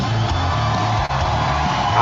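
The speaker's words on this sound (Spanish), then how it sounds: "Recibámosla con un gran aplauso." Audience at the Miss Universe Costa Rica 2025 grand final cheering and whooping loudly for a contestant, a dense crowd roar with shouts rising above it.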